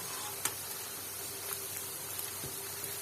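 Tapioca pieces frying in hot oil and being turned, giving a faint, steady sizzle with a few soft clicks of the utensil against the pan.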